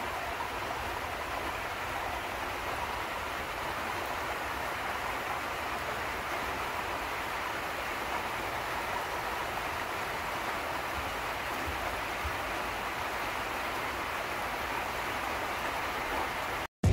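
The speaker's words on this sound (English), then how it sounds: "Raining with the sun shining." Steady, even hiss of rain falling continuously under sunshine in the Philippines for the whole stretch, with no voices or other distinct sounds.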